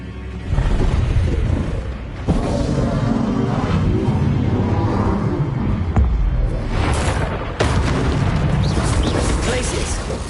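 Bombarda-style spell blasts in the Hogwarts Legacy video game: several heavy booming explosions, loud and near, with sustained rumbling debris between bursts, one big blast near the middle and another late on.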